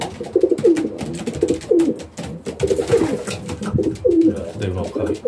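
Racing pigeon cocks in a loft give repeated deep, rolling coos, several birds overlapping close by in a steady rhythm.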